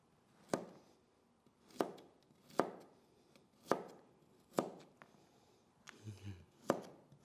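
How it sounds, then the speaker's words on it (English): A knife slices food on a cutting board for pozole, with seven sharp, evenly spaced chops about a second apart, close and clear against a quiet room. "we're just gonna like cut them any way you want. Just cut them into slices."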